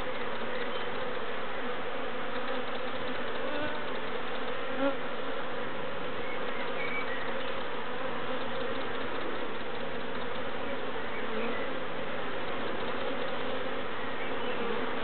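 Honeybees buzz steadily at a beehive in an apiary, a dense, continuous close-up hum of many insects that holds an even loudness throughout with no talking.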